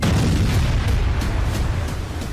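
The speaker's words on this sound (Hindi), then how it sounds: "पाकिस्तान की एक बस बलोचिस्तान की सीमा के अंदर घुसी तो बलोचों ने इसके चीथड़े उड़ा दिए" Explosion of a Pakistani bus in Balochistan, a loud, close, continuous roaring blast of rumbling noise that fills the moment and fades slightly at the end, with no voices.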